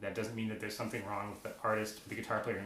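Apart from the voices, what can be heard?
None of the usual background noises is heard.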